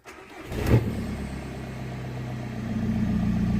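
A Seat Ibiza diesel engine cranks briefly and catches, then settles into a steady, close rumbling idle that continues to the end with no talking.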